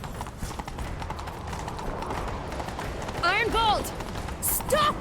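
Hooves of a horse clip-clop rhythmically in a chase through The Witcher 3: Wild Hunt, steady beats under game effects, with a neigh-like whinny rising briefly near the end.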